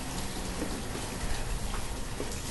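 Rain falling in the city-building video game Banished, a constant, even patter of drops on surfaces that holds steady throughout, with no voices.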